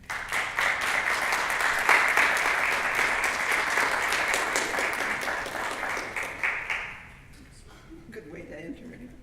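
Sustained audience applause welcoming writer Penn Kemp to an in-conversation event, steady dense clapping for several seconds that thins and fades out near the end.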